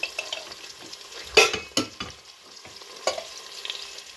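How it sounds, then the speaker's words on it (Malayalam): Soft sizzling of grated coconut with turmeric and salt frying in oil, broken by a few scraping stirs of a spoon in the pan, close and fairly quiet. "ആ എണ്ണയിൽ കിടന്ന് മഞ്ഞപ്പൊടി ഉപ്പും ഈ തേങ്ങയും കൂടെ ഒന്ന് വറുത്തെടുക്കും"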